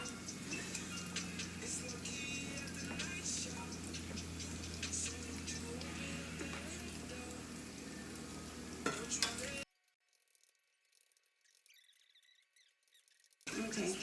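Sausage frying in a pan gives a steady, close sizzle with light stirring ticks for about nine seconds, then drops away to near silence before the sizzle briefly returns.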